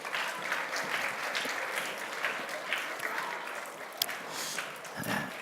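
A church congregation claps together during a Sunday service, a dense, sustained round of applause lasting several seconds with a few scattered voices mixed in.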